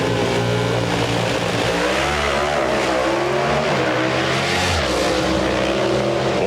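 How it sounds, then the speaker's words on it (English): Pro Stock drag racing trucks, including a Summit Racing truck and a Chevy S10, launch down the strip at the 1998 NHRA Revell Nationals in Dallas, a loud sustained engine roar with rising and falling pitch as they accelerate. "Back in round number 1 of the truck category, John Lingenfelder in the Summit Racing truck."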